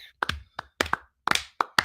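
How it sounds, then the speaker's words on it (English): Several sharp hand claps sound close and loud in an uneven rhythm, about seven or eight of them, some in quick pairs. "I'm clapping up for them."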